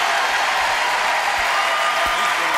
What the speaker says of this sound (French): Mesdames, messieurs, je vous demande quelques applaudissements car ils sont sur ce plateau.